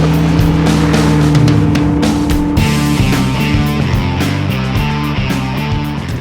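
An Infiniti rear-wheel-drive luxury performance car launches and accelerates hard, its engine roaring loudly and climbing in pitch through several rapid upshifts, close to the listener with no talking.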